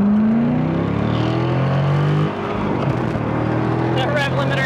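A car with a GDI engine is being launched hard. Its engine note holds a strong steady drone that drops off partway through, then churns on roughly, with people talking over it.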